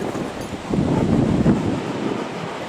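Hurricane Ophelia's strong gusty wind roars and buffets the microphone in a steady rush in St. Helens, swelling louder in the middle before easing slightly.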